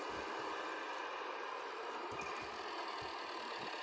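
A tractor engine runs continuously at an even pitch, a steady rumbling drone without pause through the whole stretch, driving at about 50 km/h.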